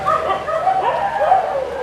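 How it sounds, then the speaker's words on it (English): Dogs bark, yip and howl with a whimpering edge, in a steady chorus of wavering calls, near a Balinese temple with Barong and Rangda statues. "And all the dogs are barking because we're probably talking here."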